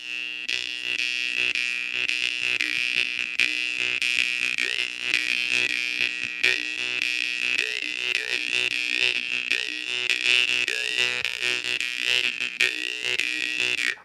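A jaw harp tuned to B1 twangs continuously up close, its droning buzz carrying shifting overtones and quick rhythmic pulses throughout, with no talking.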